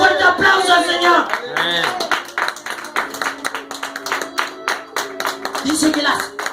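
A church congregation claps along in a loud, steady rhythm, mixed with voices and raised speech over the top.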